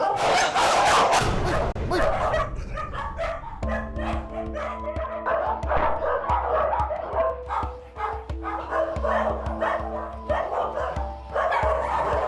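Several dogs bark and yip together, close and loud in a home with many dogs and cats, with repeated overlapping woofs and some whimpering; a person calls out briefly.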